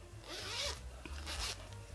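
A clothing zipper pulled closed to test it before sewing, giving two quick rasping zips close up in a quiet room.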